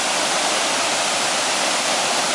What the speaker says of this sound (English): That's Afon Teigl there, and there's a bit of a waterfall.